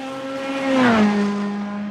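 Engine of a GT3 race car in iRacing, heard from outside the car as a steady, droning engine note that swells and drops slightly in pitch as it passes, with no talking.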